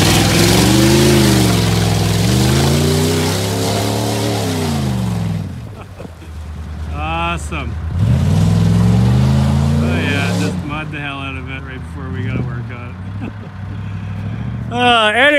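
Straight-piped Dodge engine revving up close and loud, rising and falling in raw throaty pulls, then settling toward idle with people talking over it and another short rev at the end.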